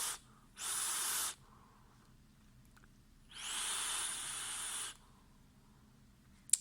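Two close, breathy draws through an Aspire Revvo vape tank with the airflow fully open, each a loud hiss of about a second. A faint click comes at the end.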